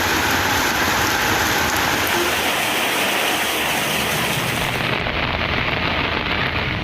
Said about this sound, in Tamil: 1 மணி நேரத்திற்கு மேலாக மிதமான மழை பெய்தது